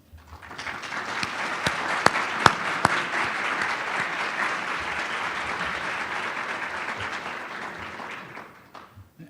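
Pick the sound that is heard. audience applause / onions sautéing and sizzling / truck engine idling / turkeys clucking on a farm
audience applause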